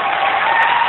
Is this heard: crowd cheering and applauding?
yes